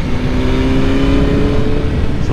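A BMW S1000R motorcycle engine revs hard under acceleration on the road, a loud, steady, close-up howl with strong harmonics and no pause throughout.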